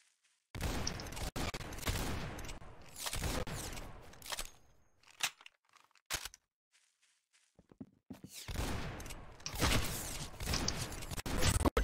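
Gunfire in the Roblox shooter Arsenal, dense bursts of rapid shots and clatter in two long loud stretches, with a quieter gap of scattered single shots and footsteps between them.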